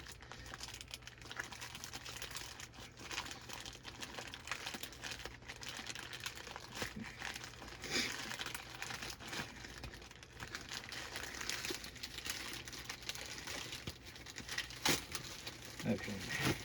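A crinkly plastic giveaway package is handled and opened up close, producing quiet, irregular crackling and crumpling rustles with occasional sharper snaps throughout, alone without speech.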